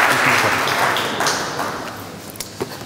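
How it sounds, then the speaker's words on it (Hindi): An audience at a mushaira poetry gathering applauds a poet, the clapping loud at first and then tapering off over a few seconds, with a few last scattered claps. "आप भरपूर तालियां बजाएं ज़रा।"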